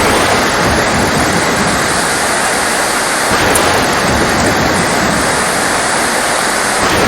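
Heavy rain pours down on an island in a loud, steady, unbroken roar lasting throughout, with no voices present.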